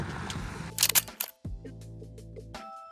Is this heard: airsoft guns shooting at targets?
no